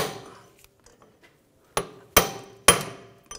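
A hammer strikes a large punch to drive out the front right CV axle of a 2009–2010 BMW 535i xDrive. Three sharp metallic taps ring out close and loud after some faint clinks, with no talking.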